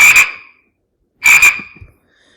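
Two loud, close frog croaks, each a short raspy burst of a few pulses, separated by a second of silence, played back as a recording on a children's encyclopedia website.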